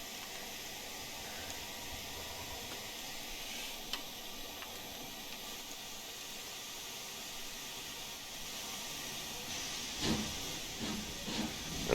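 A steady hiss of steam from a locomotive in the West Somerset Railway simulator runs throughout, fairly faint, with a few light clanks and ticks near the end.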